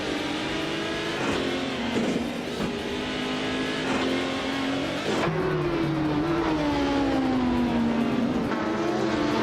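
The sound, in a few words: race cars in racing video game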